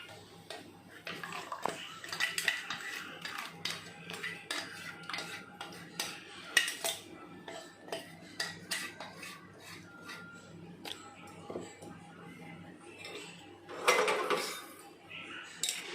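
A vessel greased with ghee before batter is poured in: soft scraping, tapping and clinking of a spoon against metal pots, close and continuous at moderate volume, with a few louder clatters.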